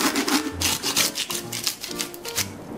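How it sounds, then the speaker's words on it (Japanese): A hand saw cuts through the hard pelvic fin base of a tuna over 150 kg. It makes quick, rhythmic rasping strokes, close and fairly loud, about two strokes per second, alone without speech. "腹びれの付け根がね結構硬いんで、ここだけノコギリでいきます。"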